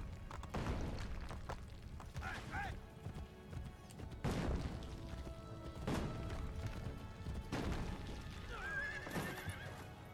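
Horses in the video game Assassin's Creed Brotherhood whinny several times over steady hoof clip-clop and busy game ambience, with loud thumps recurring every couple of seconds.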